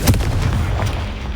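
A Confringo spell blast in Hogwarts Legacy: a dense, loud booming burst with a sharp onset, followed by a continuous rumbling roar that holds steady for over a second.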